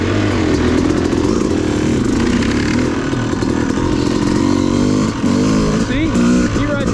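Dirt bike motorcycle engine revving and droning steadily on an off-road OHV trail, loud and close throughout, with talk over it.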